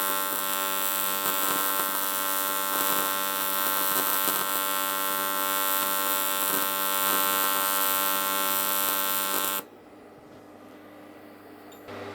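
Steady electrical hum of a welder striking an arc on an alloy Range Rover step during the first weld pass, loud and continuous for about nine seconds before cutting off abruptly into quiet.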